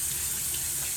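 Tap water streams steadily onto a hairpiece in a shower, a close, continuous hiss of running water with no break.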